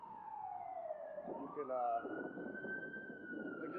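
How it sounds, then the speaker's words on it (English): A fire truck siren wails through city traffic around West Hollywood and Melrose, a clear rising-and-falling sweep heard at a moderate distance over street noise, with a brief voice speaking. "I see a fire truck coming"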